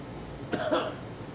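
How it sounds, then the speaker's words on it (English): A single short, dry cough close to the microphone, with quiet room noise around it. "3 days in a row I've had this real dry cough"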